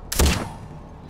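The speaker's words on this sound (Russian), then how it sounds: "Вот это пушка." A heavy gun fires in Far Cry 4, a loud blast with a short booming tail that fades, then a faint second shot or impact at the very end.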